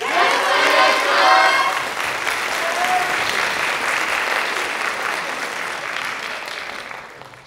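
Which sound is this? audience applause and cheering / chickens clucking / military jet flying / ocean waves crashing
audience applause and cheering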